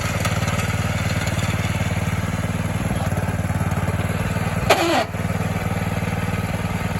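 A 1970 Sears 10XL garden tractor engine runs at a steady, loud idle close by throughout, with a brief clunk or surge near the middle as it is put in gear, then settles back into its even drone.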